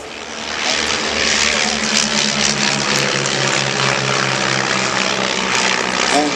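A de Havilland Dragon Rapide biplane flying overhead at an air show, a loud continuous propeller engine drone that holds steady throughout.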